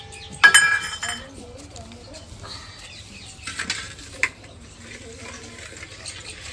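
Khaman batter ingredients, with lemon flowers (citric acid) among them, mixed in a bowl in a home kitchen, giving scattered clinks and scraping stirs with a sharp knock near the start and a few softer taps later.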